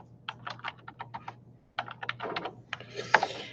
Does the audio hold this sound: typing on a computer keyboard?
yes